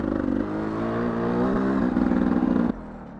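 Motorcycles ride past on a road, a loud close engine drone with rising and shifting pitch as the bikes go by, then dropping off sharply to a quieter rumble near the end.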